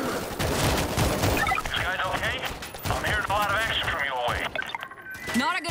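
Enemy gunfire in the zombie shooter World War Z, rapid bursts of shots and impacts crackling densely through the clip amid game effects, with players talking over it.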